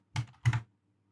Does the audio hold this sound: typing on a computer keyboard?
yes